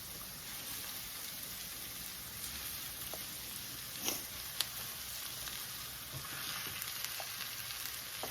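Stuffed peppers frying among onions in a pan over medium heat, a dense continuous sizzle with faint crackles and a couple of small pops, close and steady throughout.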